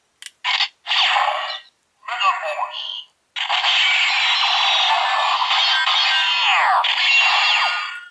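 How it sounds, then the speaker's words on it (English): A Power Rangers Super Megaforce morpher toy fires off electronic sound effects when a ranger key is inserted: a few short chirps, then a long, loud burst of bright synthetic noise with falling sweeps. "Let's see if we could get any hidden secret sounds out of this morpher key."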